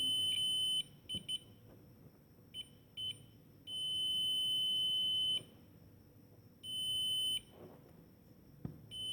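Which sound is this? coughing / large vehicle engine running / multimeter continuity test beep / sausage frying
multimeter continuity test beep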